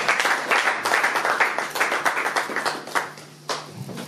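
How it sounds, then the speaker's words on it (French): A church congregation at a French-language prayer seminar bursts into sustained applause, dense overlapping claps at a steady roar that thins slightly toward the end, with a faint voice underneath. "nous acclamons pour la gloire."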